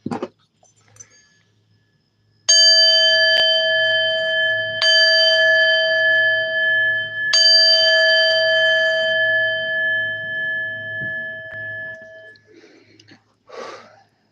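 Bright bell-like chime struck three times to close a session, each ring sustaining with a long clear decay that overlaps the next, followed by a few seconds of fading tone and a brief rustle at the end.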